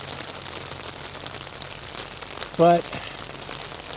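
Steady rain patters on a tarp in a yard during a downpour, a dense, even hiss of drops throughout, with a brief spoken word breaking in near the end.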